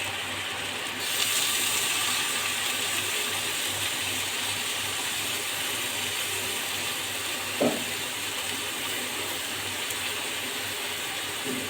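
Mixed lentils and rice lightly frying in a pan for chicken and vegetable khichuri, a steady close sizzling hiss that holds evenly throughout with one brief clink partway, no voices.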